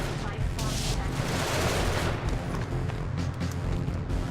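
Continuous heavy gunfire from a spaceship turret in Genesis Alpha One, a loud dense barrage of rapid shots and booms with no pause throughout.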